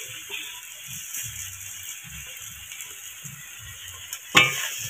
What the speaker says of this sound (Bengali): এবার আমি মুগ ডালটা দিয়ে দেবো, ভেজে রাখা মুগ ডাল।